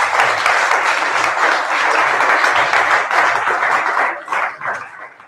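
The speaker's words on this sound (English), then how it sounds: "Maybe have a big round of applause." An audience at a Buddhist retreat event applauds in a loud, sustained wash of clapping that stays steady for several seconds before tapering off raggedly at the end.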